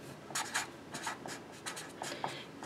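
Pen scratching out a graph on a number line during an algebra lesson on linear inequalities, with several quick bursts of drawing strokes close up, no talking.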